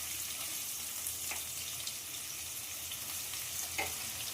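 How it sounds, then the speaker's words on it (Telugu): Onions sizzle in hot oil in a home kitchen pan while a jackfruit-seed chicken curry is being prepared, giving a steady close frying hiss with a few faint clicks and stirs. "ఆయిల్ అయితే వేడెక్కిపోయింది,"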